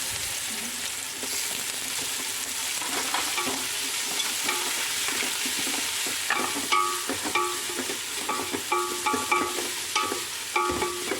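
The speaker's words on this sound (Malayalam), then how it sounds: "നമുക്ക് സബോള രണ്ട് ചെറിയ സബോളയാണ് അതിട്ട്" Two small chopped onions fry in a pan with a steady close sizzle, and the spatula later stirs and scrapes in quick repeated strokes.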